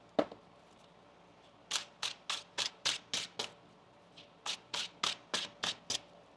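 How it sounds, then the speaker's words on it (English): Tarot cards shuffled by hand during a reading: a quick riffle-like burst, then two runs of about six or seven crisp rhythmic shuffling slaps each, close and clear with no talking. "One more shuffle here."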